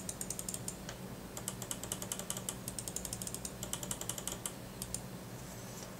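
Razer Abyssus gaming mouse buttons clicking in quick, irregular bursts of crisp, close taps, with short pauses between clusters.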